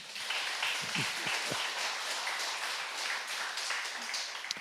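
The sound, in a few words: congregation applauding in church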